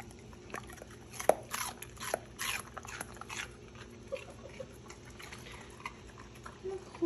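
A dog crunches on a red pepper nearby, with a few sharp bites followed by softer chewing against a low background hum.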